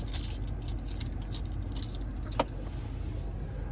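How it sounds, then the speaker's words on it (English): Keys on a 2017 BMW 530i key fob jangle softly and steadily inside the car, with a brief sharper clink near the end over a low cabin rumble. "And then finally, here's our key fob."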